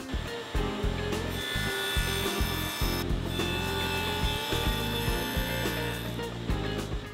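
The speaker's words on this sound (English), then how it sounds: "because I'm using a stacked dado set, there isn't anything to kick back at me. Everything is being turned into sawdust." Table saw fitted with a stacked dado set cutting into wood, a loud continuous machine whine with a grinding, chattering cut that rises and dips over several seconds, no talking.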